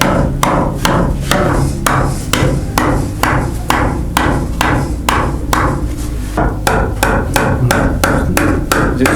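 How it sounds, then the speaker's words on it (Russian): Repeated hammer blows ring out loud and close at a steady pace as two wooden support props are driven in, with no talk over the strikes. "наша задача сейчас забить 2 подпорочки"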